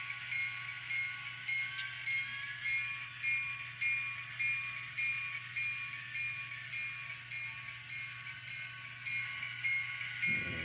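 An N scale model train locomotive runs along its track with a steady electric motor whine and soft rhythmic clicking from the rails. It carries on continuously at a low level with no voices, and a deeper rumble joins in at the end.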